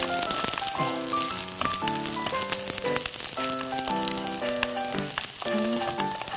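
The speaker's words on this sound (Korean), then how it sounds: "마늘도 같이 볶아주겠습니다" Garlic sautés in a pan over low heat, a soft continuous crackle and sizzle running beneath melodic background music that dominates the mix.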